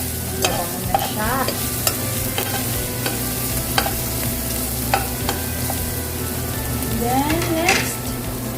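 Garlic sautéing in a pan for Filipino chicken adobo, a steady sizzle with repeated stirring clicks and scrapes throughout, fairly close, with a brief voice-like rise near the end.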